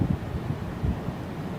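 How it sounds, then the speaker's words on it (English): Wind buffeting a microphone at night in a cemetery, a steady low rumble with gusty swells, close and moderately loud, with no voices. "It's windy."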